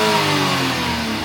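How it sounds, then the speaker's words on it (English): A 2025 Mitsubishi Minicab 4x4 Khaki Special Edition, a Suzuki-built kei truck, revs its small engine briefly, a close steady buzzing drone that holds loud and then eases slightly. "Right, let's give it a little rev up. It sounds ace."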